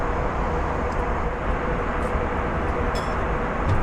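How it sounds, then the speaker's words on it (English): Inside a Turkish Airlines Airbus A321 in flight, a loud, steady broadband roar of engine and airflow fills the business-class cabin, unchanging and without pauses. "The plane is quite noisy."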